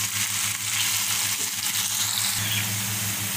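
Potatoes with turmeric and salt cook in a pan, giving a steady, close hiss and crackle of sizzling that holds at an even level over a low background hum.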